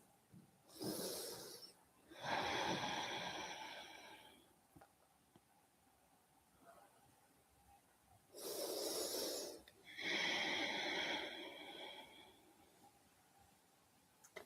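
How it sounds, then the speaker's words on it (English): Slow, deep breaths during a stretch in a beginner full body strength flow: two pairs of long, airy inhales and exhales, each an audible rush of breath close to the mic, separated by a quiet pause. "Taking your time to breathe a little deeper"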